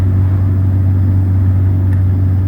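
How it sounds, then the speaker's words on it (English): A noisy Honda Civic heard from inside while driving, a loud, steady low engine drone and rumble with no change in pitch and no voices. "I don't know if you're gonna hear me right now because of this noisy shitbox, but I'm out driving it."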